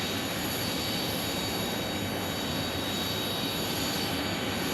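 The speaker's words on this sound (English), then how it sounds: "here comes a CRJ landing on runway 26" A CRJ regional jet landing on runway 26 at Phoenix Sky Harbor airport, a steady broad roar of jet engine noise with a high whine on top, continuous and fairly loud throughout.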